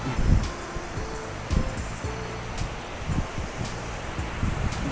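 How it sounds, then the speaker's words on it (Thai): A tall waterfall pours down a cliff in Chanthaburi, Thailand, heard as a steady, broad rush of water with wind buffeting the microphone, no voices over it. "และด้านหลังเราก็เป็นน้ำตกนะครับ ซึ่งเป็นน้ำตกที่ สูงมาก"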